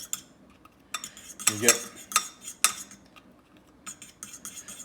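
A small fork stirs cornstarch in a dish, producing a few brief scraping, clinking strokes in short bursts separated by quiet gaps, close by, with a couple of quick spoken words.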